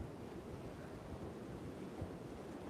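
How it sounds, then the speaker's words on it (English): Rough sea waves surge and wash in a steady, rumbling roar along the shore at Peguera, Mallorca, on a windy day, distant and faint with wind noise over it. "The seas are absolutely pumping down here."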